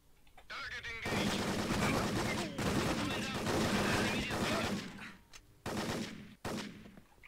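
Rapid bursts of automatic gunfire from a shooter video game, loud and sustained across most of the stretch with brief pauses, set against a busy mix of game effects and a voice talking.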